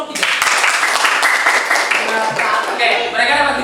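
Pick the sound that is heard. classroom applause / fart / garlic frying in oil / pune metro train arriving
classroom applause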